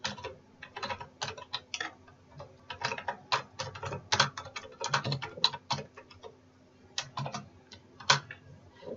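Rapid, uneven clicking of keys on a computer keyboard, close and fairly quiet, continuing in bursts with short pauses and no talking.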